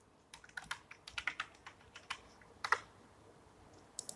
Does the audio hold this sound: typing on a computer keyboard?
yes